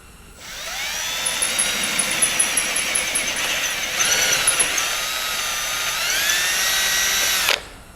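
A drill bores through the roughly 7/16-inch-thick bell housing of an Onan 140 WE generator with an 884 cubic inch V8. The whine is loud, close and high-pitched, runs steadily for about seven seconds with slight pitch shifts, then cuts off abruptly.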